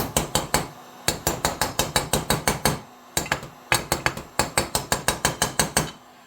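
Rapid bursts of ringing hammer blows on metal parts of a Stihl 026 chainsaw's bottom end, about a dozen strikes per burst with short pauses between, loud and close.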